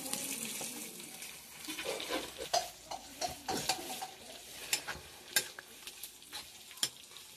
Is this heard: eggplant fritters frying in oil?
yes